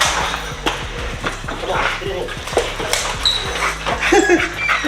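An American Bully dog whimpers and yips close by amid several dogs, with a person's voice speaking over the restless, fidgeting noises of the animals.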